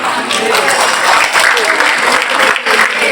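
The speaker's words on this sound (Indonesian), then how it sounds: "Jadi bunyi tepuk tangannya, tepuk tangan orang kepanasan." An audience at the opening ceremony of an Islamic boarding school breaks into loud, sustained applause, dense clapping throughout with a faint voice briefly audible beneath it.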